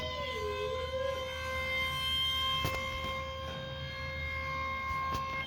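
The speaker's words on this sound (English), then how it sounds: "Our next alarm comes from the United States of America." An Ohio emergency alert siren wails steadily with layered sustained tones and a brief pitch sweep at the start, holding loud and continuous throughout with no voices.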